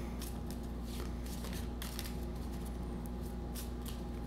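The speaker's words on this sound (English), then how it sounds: "there's 4, so we shuffle." A deck of board game cards is shuffled at close range, giving repeated quick riffling bursts over a soft, steady background.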